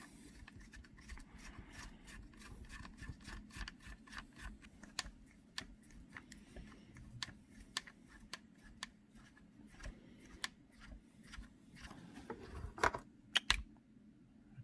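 Frame screws being removed from a Traxxas TRX4 RC truck with a 2mm driver, heard as a dense run of small close ticks and clicks over soft rubbing and handling noise, faint throughout.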